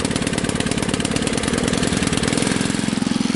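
A Husky 600 engine, just started after choking, runs in a loud, steady, throbbing idle close by with no break.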